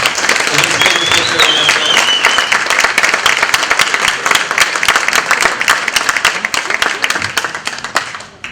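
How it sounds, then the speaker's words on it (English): Audience applause at a high school athletic hall of fame ceremony, a loud, sustained wash of many hands clapping that holds steady for about eight seconds before easing slightly at the end, with faint voices mixed in. "I'd like to give him a round of applause."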